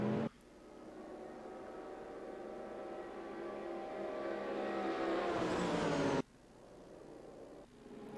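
A Callaway Corvette race car engine in a sim racing game drones steadily and rises in pitch as it accelerates, then cuts off abruptly before a quieter engine note resumes.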